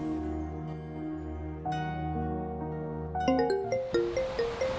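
A mobile phone ringtone cuts in over soft background music as a bright, repeating melodic chime pattern that grows louder toward the end.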